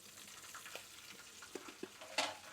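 Curry leaves sizzle in hot oil, a faint, steady frying hiss broken by small crackles and pops, with one sharper burst near the end.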